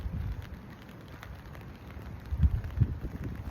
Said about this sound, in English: it's so fitting that it's raining right now